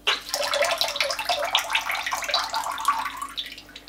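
Sterilizer fluid drains through a siphon tube during cider bottling, a steady close gush and splash of running liquid that holds for a few seconds before easing slightly at the end.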